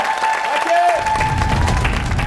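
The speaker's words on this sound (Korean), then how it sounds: "성공을 기원하는 박수로 부탁드리겠습니다" A TV studio audience bursts into broad applause and some cheering on a Korean variety show before a trick-shot billiards stunt, the clapping dense and continuous with a voice speaking over it.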